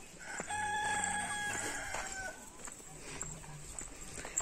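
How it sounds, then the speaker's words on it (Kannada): A country rooster on a dairy farm crowing once, a clear, drawn-out call at moderate distance, followed by quieter farmyard background sounds. "ನೋಡಿ, ಕೋಳಿ, ನಾಟಿ ಕೋಳಿ"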